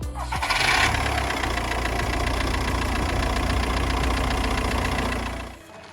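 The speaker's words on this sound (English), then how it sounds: "make sure I give the ignition a couple of turns on, so get the electronic fuel pump filling that up, and then we'll give it a start" An Audi A4 B7 2.0 TDI diesel engine cranks briefly and catches, then settles into a steady, loud, close idle that runs for several seconds before cutting off.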